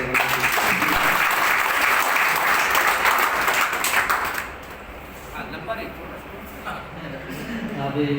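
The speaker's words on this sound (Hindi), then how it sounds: "एडवांस में एक बार ताली हो जाए" An audience at a marketing company gathering claps loudly for several seconds, then the applause drops away and talk continues over a quieter room.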